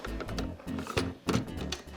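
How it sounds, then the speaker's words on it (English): A sewing machine stitching sleeves onto the bodice of a porcelain-style corset dress, giving a close, steady rhythmic mechanical whirring in short bursts with no talking. "Let's get the machine turned on and let's start sewing."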